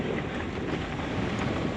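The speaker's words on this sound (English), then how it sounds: "bloody hell, it's windy." Strong wind buffets the microphone outdoors in a steady, loud roar with no pauses, filling the whole short stretch without any voice over it.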